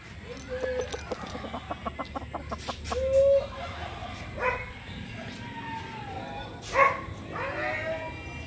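Chickens at a rural Filipino poultry setting cluck and squawk in short scattered bursts, with a rooster-like call and a dog yapping mixed in, moderately close and otherwise fairly quiet.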